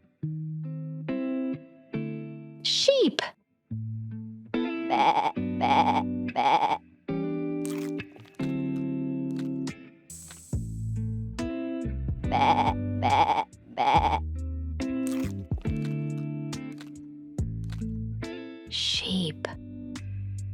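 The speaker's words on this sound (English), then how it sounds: "Sheep. Bah, bah," Sheep bleating over and over among bright music, several wavering bleats spread through a cheerful toddler song with bouncy melody, loud and close.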